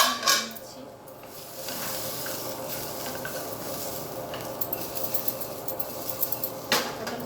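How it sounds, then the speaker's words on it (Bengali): Pointed gourd slices fry in a pan with a low, steady sizzle, along with occasional clinks of a spatula or utensil against the pan near the start and end. "আমি পটলটাকে আবার ভেজে নিচ্ছি"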